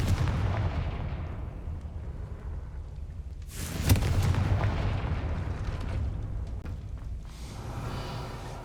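A spell explosion in the fantasy video game Hogwarts Legacy, a loud broadband blast near the middle over a steady rumbling game background, with a softer burst trailing off toward the end.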